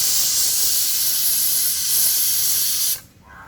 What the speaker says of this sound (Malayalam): അപ്പോൾ ഇത് 5 വിസിലായിട്ടുണ്ട്.